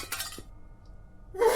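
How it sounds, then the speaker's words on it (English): Window glass shatters in a horror video game set in a dark mansion; a sudden bright crash of breaking glass bursts in at the very end after a short, quiet, hushed lull. "suddenly you hear the window shatter."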